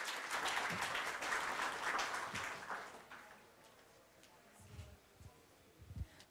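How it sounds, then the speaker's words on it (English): Audience applause for panelists at a data science panel discussion, fairly soft and distant, steady for about three seconds before fading into scattered claps and a few low thumps. "a huge round of applause for all the panelists"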